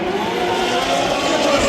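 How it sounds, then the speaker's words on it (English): Drift car at Hot Pit Auto Fest locking its wheels and skidding: a loud, continuous engine roar mixed with broad tire-screech noise, sustained without a break over the whole moment. "Diving in here with a little wheel lock action there from Roche over here."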